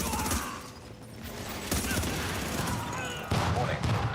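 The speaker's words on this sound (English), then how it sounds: "Oh, some shooting." Gunfire in The Division 2, loud rapid bursts and shots that come and go in waves over a few seconds, alongside in-game voices.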